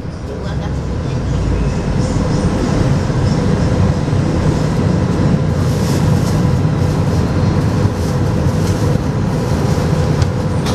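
Las Vegas Monorail train pulling into a station southbound, a loud continuous rumble and hum of the moving car heard from inside, with a few faint higher rattles toward the end.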